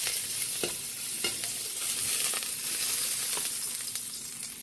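Garlic sautéing in oil for chop suey, a steady close sizzle with occasional knocks of a spatula stirring in the pan, no talk.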